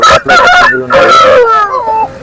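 Loud, close crowing calls from several roosters overlap one after another, harsh and strained, the birds packed into sacks at a busy poultry market.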